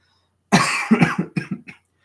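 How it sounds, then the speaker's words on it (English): One person coughs close and loud during a toy car hockey live stream: a sharp burst followed by a quick run of shorter, fading hacks, over a silent background. "Sorry if I'm coughing"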